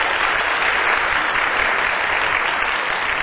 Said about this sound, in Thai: ขอเสียงปรบมือด้วยครับคุณสมชายครับ